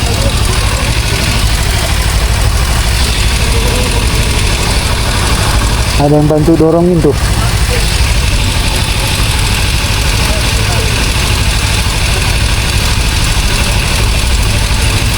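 A car engine idles loudly and steadily after overheating on a steep uphill road in a traffic jam, with a constant low rumble throughout and someone speaking briefly partway through.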